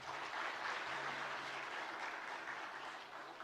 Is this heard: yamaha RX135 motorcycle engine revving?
no